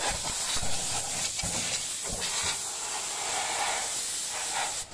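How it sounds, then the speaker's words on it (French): A fire on a burning Golf GTI, set alight during welding, is sprayed out with a loud, steady rushing hiss that holds nearly unbroken for several seconds, close by and without speech. "Bon bah, on va éteindre le feu"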